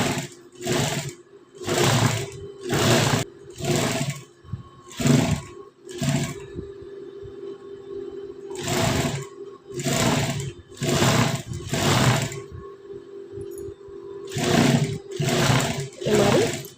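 A sewing machine stitches a blouse neckline in short runs, a close, loud rattling whir that starts and stops repeatedly with brief quiet gaps between bursts.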